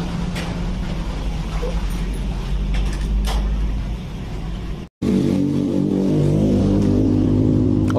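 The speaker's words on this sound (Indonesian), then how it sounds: "lanjut setelah motor menyala" A Honda Vario scooter engine runs close by with a mechanical rattle. After a short cut it comes back as a steadier, louder idle hum, with a dog barking in the background.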